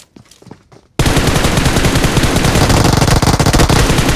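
Automatic gunfire in the mobile battle royale game BGMI, a loud sustained rapid burst that cuts in abruptly after a second of quieter clicks and footsteps, continuing densely to the end without speech.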